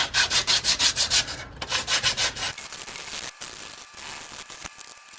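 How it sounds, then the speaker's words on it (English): Rhythmic back-and-forth strokes of 150 grit sandpaper rubbing a brake caliper, close and steady for about two seconds, then shifting to a rougher, more continuous scraping. "I have some 150 grit sandpaper just to help smooth this down just a little bit more"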